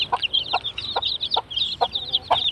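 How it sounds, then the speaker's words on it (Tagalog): Native chickens and chicks on a small farm give a rapid run of close clucks and high peeping chirps in quick bursts, with no talk over them. "Daming sisiyo."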